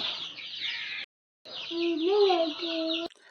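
Thin, high chirping of poultry chicks during IBD vaccination in a continuous, slightly rising run after a brief silence, with a steady high hiss beneath.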